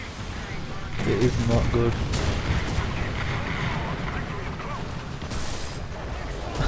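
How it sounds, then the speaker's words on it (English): Artillery fire in the War Thunder video game, a steady rumbling barrage of booms and blasts running through the whole stretch, with someone talking over it early on. "I'm like literally trapped in all the artillery"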